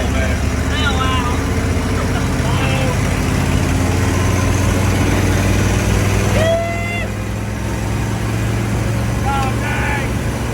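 Engine of a retired Humvee roaring steadily at full throttle while driving, a loud continuous low drone with road and wind noise, and voices exclaiming over it.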